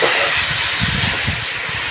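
Pork pieces frying in a pan for a pork curry give a steady, loud, close sizzle that holds throughout, with soft low bubbling and knocking underneath.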